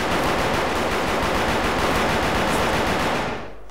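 Dense, continuous rapid gunfire from the online shooter game Wolfteam, loud and close, sustained as an unbroken burst for several seconds before cutting off abruptly at the end.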